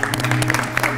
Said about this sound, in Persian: تشویقشون بفرمایید.